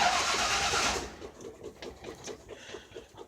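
A Chevrolet pickup truck engine parked in a backyard cranks over on a cold start. The starter whirs for about a second, then a loose, rhythmic chugging pulse continues close by, with no talking.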